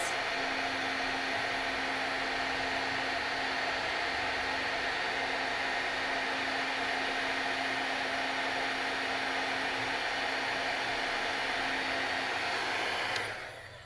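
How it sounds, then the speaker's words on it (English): A heat tool blows hot air for heat embossing a stamped image, giving a loud, steady whooshing roar with a faint whine that runs unbroken and ends abruptly as it switches off. No voices. "And it really is easy to go ahead and just heat emboss it."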